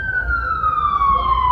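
A loud siren wails nearby in a single long descending tone over a low traffic rumble.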